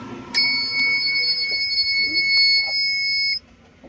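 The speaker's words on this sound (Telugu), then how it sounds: "Horn okay." Horn of a 2015 Tata Ace HT mini truck gives one steady, high electronic tone that holds for about three seconds and then cuts off sharply.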